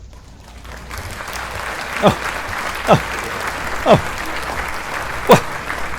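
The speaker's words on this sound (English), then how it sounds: "I have to create my own applause because you guys don't." Canned applause effect triggered by a button during a live-streamed Q&A broadcast, a steady crowd-clapping wash with a few sharp swells, while someone talks briefly over it.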